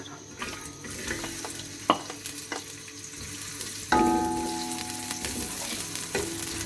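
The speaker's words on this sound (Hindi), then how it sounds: "अब हम इसे इतनी देर तक फ्राई करेंगे कि ये लाइट ब्राउन हो जाए।" Onions sizzle and fry in a pan while being cooked for dal khichdi, with a steady crackle and occasional stirring clinks and scrapes heard close by.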